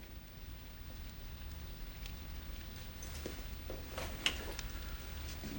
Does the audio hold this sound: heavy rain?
yes